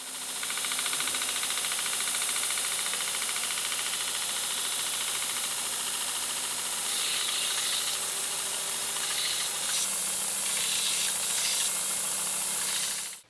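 An axe bevel is being sharpened on a belt grinder running a 240-grit belt, making a loud, steady high whine and hiss that holds for the whole stretch, with faint rasping contact changes partway through.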